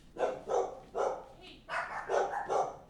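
An indoor dog barks in a quick series of about six loud, evenly spaced woofs, grouped into two bursts of three during a nighttime storm broadcast.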